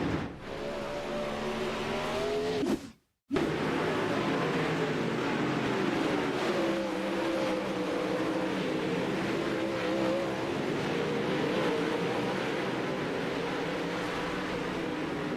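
360 sprint race cars roar around the Lernerville track, their engines whining loud and continuous as the field passes, with one sudden brief dropout early on before the howl returns.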